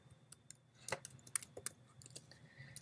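Scattered keystroke clicks from typing on a computer keyboard while adding a text layer in image-editing software, quiet and close with irregular taps and a few sharper clicks, no talking.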